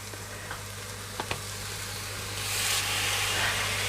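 Aubergine slices lowered one by one into a hot pan for moussaka, a faint, even sizzle with a couple of soft clinks early on and the frying hiss swelling louder near the end, no voices.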